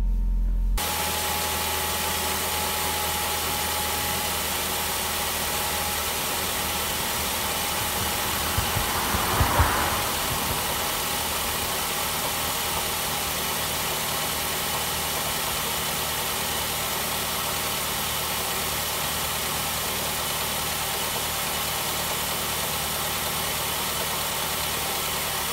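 A 2006 Ford S-Max engine idles with a steady, even hum throughout, broken by one brief louder knock about midway; no voices.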